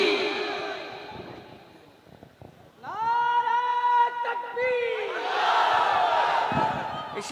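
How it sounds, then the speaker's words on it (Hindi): A large crowd at a religious gathering roars back a chanted takbir response in unison, loud and sustained, following a single raised voice calling out the slogan. "इसी तरह से बुलंद आवाज से नारे का जवाब दें"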